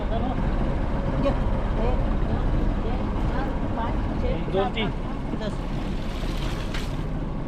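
A traditional dol-net fishing boat's engine drones steadily and loudly at sea off Mumbai as the boat heads home, a constant rumble mixed with wind and water noise and people talking over it.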